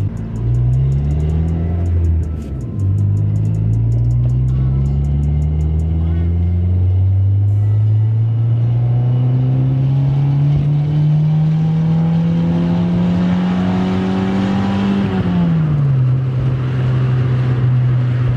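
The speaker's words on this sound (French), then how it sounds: "vous allez vous découvrir le son que la Civic va faire avec la ligne montée" A Honda Civic fitted with a stainless steel exhaust line revs up loudly and steadily, its engine note climbing over about fifteen seconds before dropping back, with a deep rumbling tone throughout.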